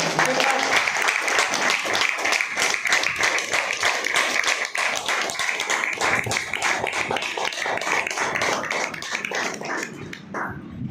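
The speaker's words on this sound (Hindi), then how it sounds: "जोरदार तालियों से सभी के लिए" An audience gives loud, sustained applause at a wellness gathering, many individual claps forming a continuous rattle that carries on for about ten seconds before thinning out, with some faint voices underneath.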